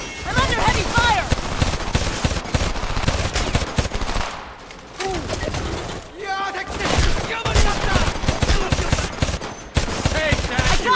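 Heavy gunfire in the video game Homefront: dense automatic bursts and rapid shots rattling almost continuously, loud and close, with a brief lull midway and game voices shouting under the firing.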